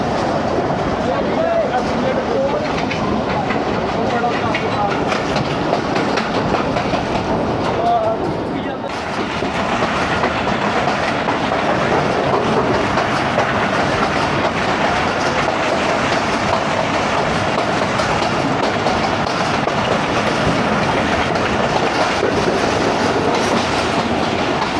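Passenger train running on rail tracks on the Lahore to Narowal line, a steady loud rumble of wheels on rails with clickety-clack throughout, briefly dipping mid-ride, with no talk over it.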